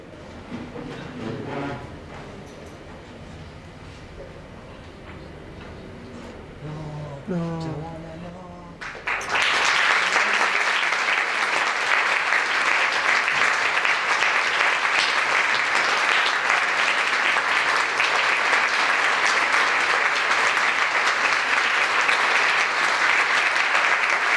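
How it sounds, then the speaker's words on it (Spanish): Audience applause at an honorary doctorate ceremony, a loud, dense, steady wash of clapping that bursts in after a stretch of talk and carries on unbroken to the end. "Aprovechamos los mismos aplausos"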